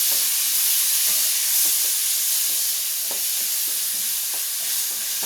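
Onion and tomato frying in a pan for mutton curry, giving a constant close sizzle and hiss with faint utensil ticks throughout.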